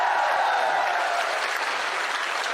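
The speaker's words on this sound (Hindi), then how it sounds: "आप सब लोग इस शाहपुरा के नौजवान विधायक के लिए जोरदार तालियां बजाओ।" A crowd at a Lok Sabha election 2024 nomination rally claps loudly, a dense wash of applause, steady and close throughout the short burst.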